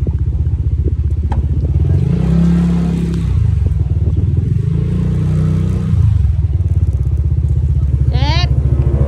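A motorcycle ridden along a road, its engine a loud, close, throbbing putter that swells and eases as the throttle changes, with a brief higher whine near the end; a voice is present beneath the engine.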